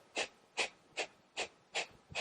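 Six sharp, forceful exhales through the nose, evenly spaced about every two fifths of a second in a quick steady rhythm, close and breathy.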